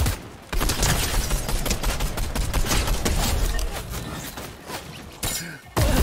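Rapid gunfire in a video game battle, dense loud bursts of shots almost nonstop with a few short pauses.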